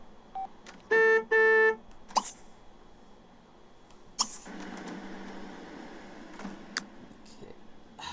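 A phone in The Sims 3 game is dialed with a quick pair of bright electronic tone bursts, followed by a few short clicks and soft game noises.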